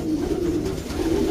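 Pigeon cooing, a steady low hooting murmur that continues throughout without pause, close and fairly loud, at a breeder's loft in Rosario, La Union.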